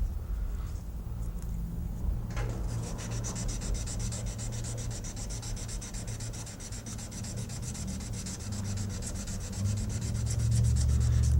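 A steel knife blade, including the ricasso, is hand sanded lengthwise with abrasive paper. The rubbing rasp is steady and close, with rapid, even back-and-forth strokes that build slightly louder toward the end.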